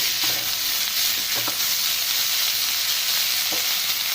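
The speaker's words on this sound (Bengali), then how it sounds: "ভালো করে নাড়াচাড়া করে মিক্স করবো।" Chicken gizzard fry being stirred and mixed in a pan: a loud, constant sizzle with a few faint spoon scrapes underneath and no voices.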